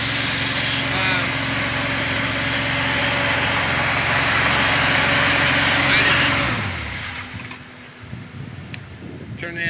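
A 25 kW Vulcan gasifier system's engine runs with a loud steady drone, then shuts down and winds off in its last seconds, leaving quieter handling noises.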